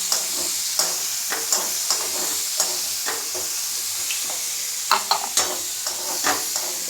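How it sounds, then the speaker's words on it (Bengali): Four medium onions fry in a pan for a chicken dish, a close steady sizzle broken by regular scraping stirs, each stroke a short sharp accent, with no voices. "সামান্য ব্রাউন করে ভেজে নেব"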